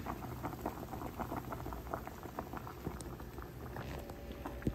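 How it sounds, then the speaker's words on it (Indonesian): Potatoes boiling in a pot on a home stove, a soft, steady bubbling and popping patter heard close and fairly quiet, with no talk. "Mungkin ada 30 menit aku ngerebus kentang ini baru bisa matang."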